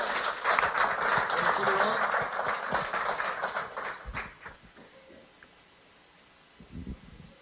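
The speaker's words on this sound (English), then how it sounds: "Round of applause." Applause from an audience at a ceremony where a truck driver receives an award for 3 million safe miles, steady clapping for about four seconds before fading out into quiet with a few soft sounds.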